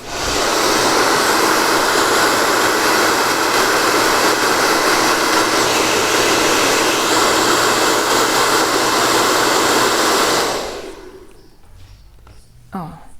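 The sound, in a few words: hair dryer blowing to dry fabric paint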